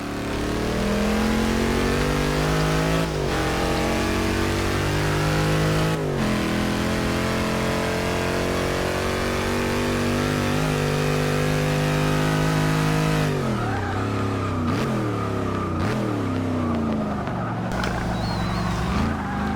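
A Dodge Challenger Hellcat engine in the racing game Forza Motorsport 6 revs hard up the back straight of a Lightning Lap. The loud, close exhaust note climbs repeatedly and drops briefly at each gear change, heard alone.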